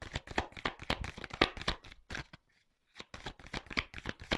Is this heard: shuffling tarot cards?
yes